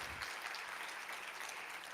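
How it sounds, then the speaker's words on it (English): Conference audience applauding at a Bitcoin event, a steady, dense wash of clapping that fills the whole stretch at a moderate level without breaks. "a huge round of applause"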